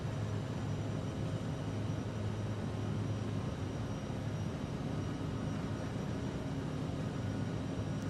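Airliner engines spool at takeoff thrust in a flight simulator, a steady, loud broadband roar with a low rumble that holds evenly from start to finish, with no voices.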